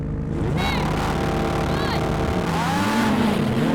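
A McLaren 750S, Ferrari 296 GTB, Porsche 911 Turbo and Lamborghini Huracán Performante launch together in a drag race: loud, overlapping engine roars climb through rising gear pitches, with brief shift dips, close and sustained.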